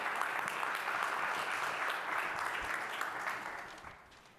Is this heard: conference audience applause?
yes